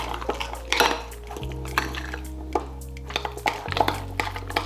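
A utensil scrapes and clinks against a bowl while gochujang paste is mixed with sugar, giving repeated close, sharp taps and scraping strokes over a steady low hum.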